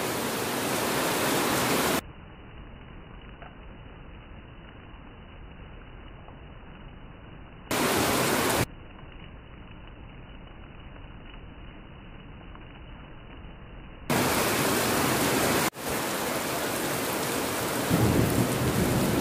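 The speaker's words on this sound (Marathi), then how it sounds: "तुम्हाला दाखवतो मी पाऊस" Heavy unseasonal downpour with thunder in Nashik, a dense, steady roar of rain close by, its fullness dropping in and out across stretches, with no voices.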